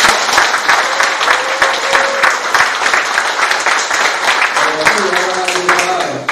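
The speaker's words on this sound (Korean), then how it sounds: "큰 박수 한번" An audience at the Korean Taego Buddhist Order's election ceremony for its head of administration breaks into sustained applause, dense clapping filling the room while a speaker talks over it near the end.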